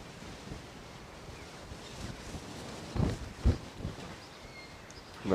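Gusty wind buffets the microphone at Moorlands Farm Fishery during a Fish 'O' Mania match-fishing qualifier, a steady blustery roar with a few heavier thumps of gusts.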